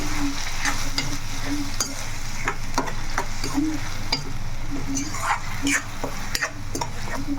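Onion and masala paste, made without green chillies, sizzles and fries in a pan while a spoon scrapes and stirs it in repeated strokes, with clinks against the metal over a steady hiss and no talking.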